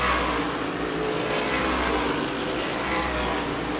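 Race cars battling for second on the back straightaway at New Smyrna, a loud, continuous engine roar filling the whole stretch without letting up.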